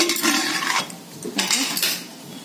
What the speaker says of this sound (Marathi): आता कुकर उघडते मी।